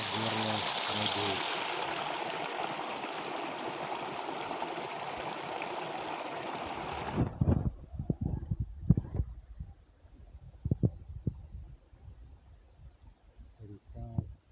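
Mountain spring stream flowing out of rock, a dense, steady rushing wash for about seven seconds that cuts off suddenly, leaving intermittent voices and handling noises.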